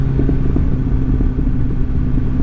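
A Kawasaki Ninja ZX10-R sport motorcycle with a remapped engine of about 200 hp idles up close. It gives a loud, steady, deep rumble with a slight lumpy pulse throughout.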